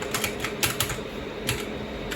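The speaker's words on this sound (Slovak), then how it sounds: "ak počujete klávesnicu v pozadí" Keys clatter on a computer keyboard in the background of a shawarma kiosk game, soft quick irregular taps sitting over a steady, even room hum.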